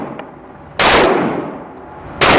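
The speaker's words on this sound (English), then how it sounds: "I'm peppering him in the extended mag, right in the nose, right where I'm aiming" Two loud, sharp pistol shots from a Springfield XD 9 3.3 fitted with an extended magazine, fired at an outdoor range about a second and a half apart, each with a long ringing decay and no talk.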